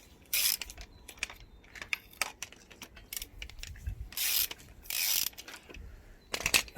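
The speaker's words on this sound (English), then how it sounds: "with the ratchet" A ratchet with a 10mm deep socket on an extension works loose the oily spark plugs of a Volkswagen Polo engine during a strip-down, giving several separate bursts of clicking and rubbing, near and loud, with no voices.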